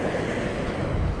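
Ocean waves roll and wash onshore on a beach vacation, a loud continuous low roar mixed with wind buffeting the microphone, close and steady with no talk.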